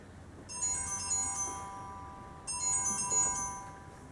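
A phone rings with an incoming call in two electronic tone bursts separated by a short gap, moderately loud over quiet background noise.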